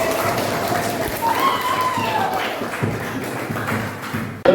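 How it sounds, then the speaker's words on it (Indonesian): A group of people claps at a school gathering, the clapping steady under a faint whistling tone and room noise, with a sharp knock at the very end. "Tepuk tangan semuanya."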